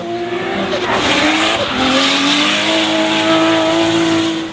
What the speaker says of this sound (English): One of the top rising stars of last season shook down a new look Rollet Action Cam R33 Skyline, Zach Pole